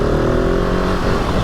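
A 2020 Husqvarna 701 SM 700cc supermoto motorcycle revving hard in second gear for a seated wheelie, a loud steady engine roar held close for the whole stretch.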